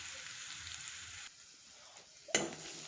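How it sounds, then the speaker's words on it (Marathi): Masala spices dry-roasting in a pan with no oil, heard as a soft, steady sizzle and crackle close by, then a sharp clatter near the end, with no talking. "इकडे आपला मसाला असा भाजत आहे"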